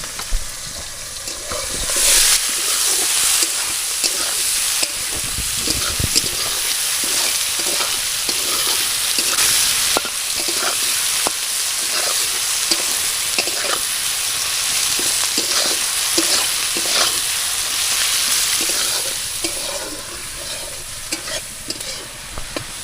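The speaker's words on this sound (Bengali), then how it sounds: "এইবার আমি পেঁয়াজ রসুন আর তেজপাতা দিয়ে দেবো" Onion, garlic and bay leaf fry in a pan with a loud, steady sizzle, broken by intermittent scraping stirs, and no talking over it.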